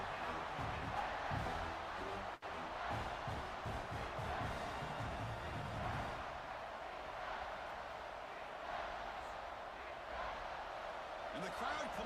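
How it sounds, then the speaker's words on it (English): A college football stadium crowd at Georgia Tech versus Clemson keeps up a steady, dense roar that builds through a red-zone defensive stand, with a commentator talking over it throughout. "the crowd coming to life here, trying to help this defense down in the red zone"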